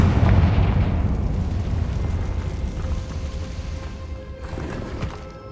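A Confringo fire spell exploding in an underground chamber in Hogwarts Legacy, a loud booming blast that rumbles on and slowly decays, with a smaller burst near the end.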